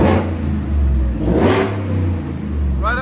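A 725hp supercharged 2025 Ford F-150 with a 5.0L V8 and Flowmaster Flow FX exhaust revs hard and close, swelling in several loud surges with a deep roar and supercharger whine, then dropping back toward idle.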